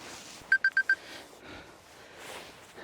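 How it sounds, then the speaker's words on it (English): A mobile phone sounds four quick, evenly spaced electronic beeps close by in a quiet outdoor woodland setting, followed by faint rustling. "And there goes my phone."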